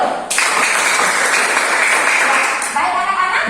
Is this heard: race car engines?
no